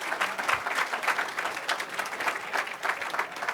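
Hall audience at a local sports and business awards evening gives a big round of applause for a one-minute shopping prize winner: steady, dense clapping from many hands throughout.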